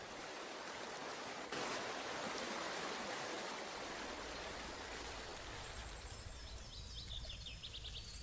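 The Cascada de Agay near the Berber town of Sefrou, Morocco, gives a steady, loud rush of falling water. Faint bird chirps rise over it toward the end.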